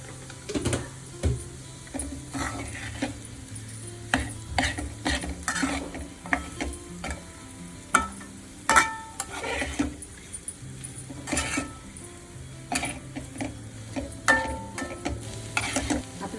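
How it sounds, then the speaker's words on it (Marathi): Cooked potato being sautéed and stirred in a pan: repeated scraping and clinking strokes of a spoon against the pan over a soft sizzle, irregular and close, with no voices. "बटाटा परतून झालेला आहे."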